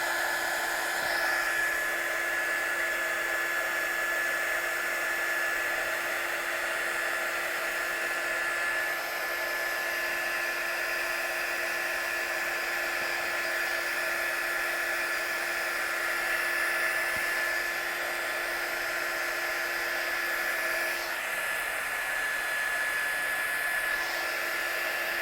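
Hair dryer drying watercolour on card, a steady high whirring blow held continuously with only slight shifts as it moves, alone with no talk.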